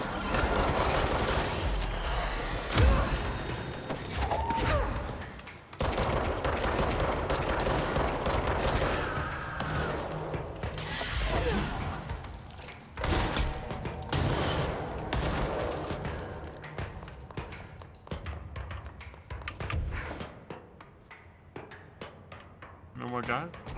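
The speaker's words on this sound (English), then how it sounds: "So why do these explosions seem bad?" Rapid bursts of gunfire and blasts crackle through a chaotic battle in Control: AWE expansion, loud and dense for most of the stretch before thinning out near the end.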